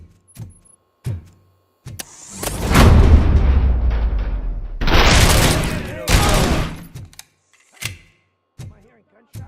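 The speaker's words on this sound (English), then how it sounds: "Am I hearing gunshots?" Bursts of gunfire and explosive booms in the video game RoboCop: Rogue City, some sharp isolated shots and longer rattling volleys, loud and close, separated by brief quiet gaps.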